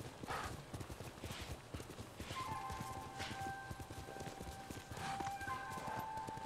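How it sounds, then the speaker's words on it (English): Horse hooves in the video game Ghost of Tsushima clip-clop in a rapid galloping rhythm throughout, with faint synthetic tones ringing in the background. "For some reason, I want to call my horse Kageyama."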